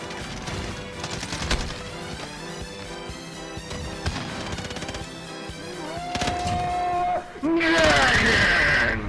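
Gunfire from a gun in Call of Duty: Modern Warfare, a run of loud sharp shots mixed with game music and effects, with someone talking over much of it.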